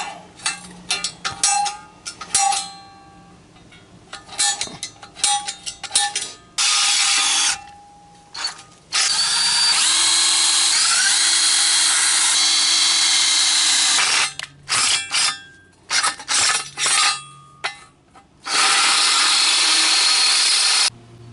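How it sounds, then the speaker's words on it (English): A power drill grinds into metal go-kart frame parts in several sustained bursts, with clicks and handling noises between them. "So let's get marking and drilling."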